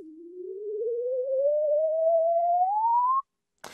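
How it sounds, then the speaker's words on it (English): R2-D2 astromech droid low moan effect: a single smooth electronic tone that glides slowly upward for about three seconds, clean and isolated, then cuts off abruptly. "that blue line that you see at the very bottom, that's the lower moan."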